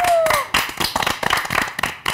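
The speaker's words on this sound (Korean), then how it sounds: "서로에게 박수 한번 줍시다." A studio audience at a K-pop girl group ELRIS public recording applauds one another after a nonsense quiz, dense crackling claps in irregular bursts filling about two seconds, fairly close and loud, with no talk over it.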